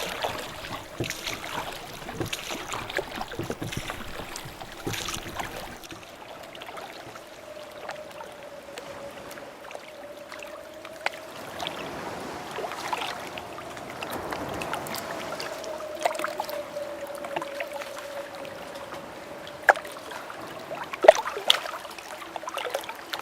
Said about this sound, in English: The boatmen pedal their oars to the river to take you to the other side